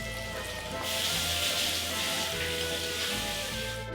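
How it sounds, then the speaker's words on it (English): Cooking oil sizzling in a frying pan on a gas flame while preparing Italian food, a steady, close, bright crackling hiss that holds evenly throughout with faint hum beneath. "Sizzle, sizzle."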